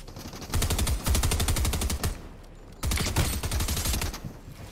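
Rapid SMG gunfire in a video game, two long close, loud automatic bursts separated by a brief pause, each a dense rattle of shots.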